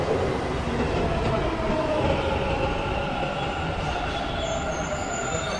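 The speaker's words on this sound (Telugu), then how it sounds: "మన ట్రైన్ అయితే రాబోతుంది." A Bangalore metro train pulls into the station with a steady loud rumble of wheels and carriages, faint rail squeal rising near the end, no voices over it.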